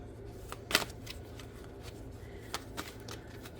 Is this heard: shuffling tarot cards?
yes